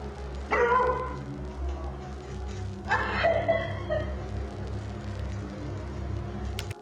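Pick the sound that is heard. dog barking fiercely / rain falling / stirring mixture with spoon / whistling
dog barking fiercely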